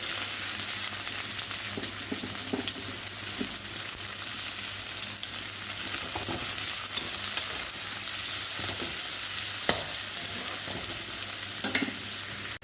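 Vegetables fry in a pan with a steady, even sizzle and occasional stirring scrapes, moderately loud and continuous with no talking.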